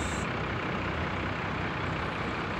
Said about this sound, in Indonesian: Ini bus Kandil Gumilang lagi.